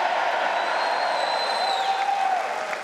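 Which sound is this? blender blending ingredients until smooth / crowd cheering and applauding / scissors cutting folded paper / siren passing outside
crowd cheering and applauding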